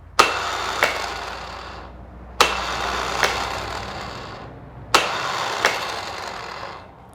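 A 4x4's starter motor with its terminal shorted, throwing its gear out to engage the flex plate: three sharp clacks, each followed by a whirring spin that fades over about two seconds.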